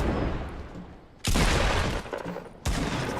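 Gunfire in Fortnite: a quieter stretch of game sound, then a loud burst of shots followed by another sharp volley, close and forceful.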